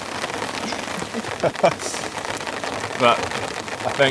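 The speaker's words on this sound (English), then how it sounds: "the rain just started coming down so heavy" Heavy rain drums steadily on a camping tent in a downpour, a dense, even patter with a few louder splashes. A person speaks briefly over it.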